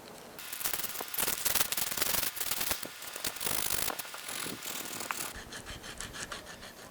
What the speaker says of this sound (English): get these tenons down to bare wood so that all of the old glue is off